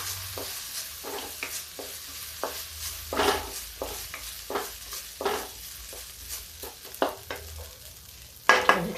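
Rice for kheer roasts in a pan while being stirred, giving a low background sizzle broken by repeated scraping and stirring strokes at an uneven rhythm, ending with a louder clatter.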